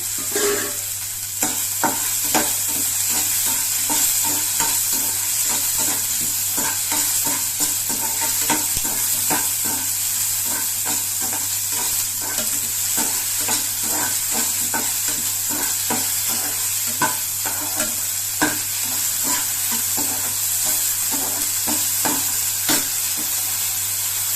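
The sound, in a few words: dried red chilies and turkey berries frying in a pan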